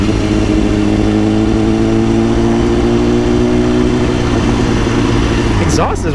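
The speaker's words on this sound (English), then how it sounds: "Exhaust is really loud too." A 2010 BMW S1000RR with a cat-delete exhaust drones loudly at steady speed while riding through downtown Houston, the engine tone holding level before dipping near the end, with a rider talking over it.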